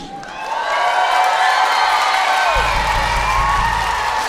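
Children from Grange school cheer loudly as a crowd at an evening performance, a sustained wall of high shouts and whoops that swells and holds, with a low rumble joining partway through.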